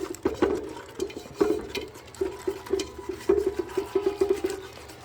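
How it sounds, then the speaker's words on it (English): A whisk works flour into a roux in a pan for mac and cheese, making a rhythmic series of soft, wet strokes and taps at close range. "So now I'm gonna start putting some flour in and whisking it to incorporate it"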